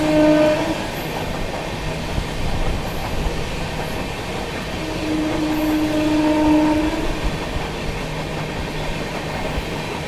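Chennai Express train rolling past ICF station, Perambur, with a steady rumble of carriages and track clatter, tonal horn-like hums rising and falling, heard from on board at moderate loudness with no talk.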